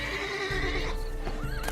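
A unicorn whinnies with hoof clip-clops in The Witcher 3 game, layered over background game ambience, close and moderately loud.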